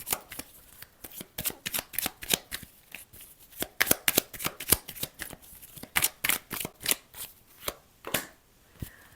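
Tarot cards are shuffled by hand in a steady run of crisp, close riffling snaps and slaps, repeating rhythmically for several seconds.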